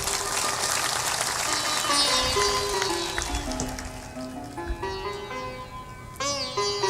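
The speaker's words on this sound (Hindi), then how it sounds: "थोड़ा जोर से ताली बजाया करो।" Indoor audience applause at a spiritual talk on overcoming poverty, a dense continuous clapping wash that stays loud throughout, with tonal music or chanting running underneath and no clear speech.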